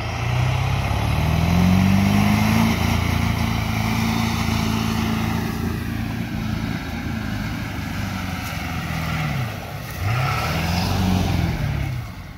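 A diesel truck engine revs up in long rising and falling swells, loud and close, with a deep rumbling drone underneath.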